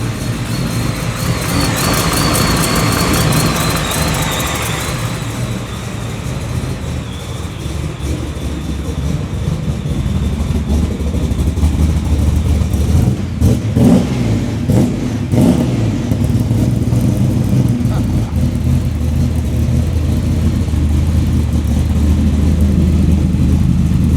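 An 830 hp Volvo wagon engine idles steadily at close range, then revs repeatedly into loud, rising bursts that settle back to a rumbling idle.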